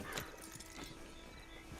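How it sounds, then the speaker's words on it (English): Horse hooves clip-clop in the video game Red Dead Redemption 2, several soft irregular footfalls at a walking pace over a busy background, with no talk. "Get on the horse there."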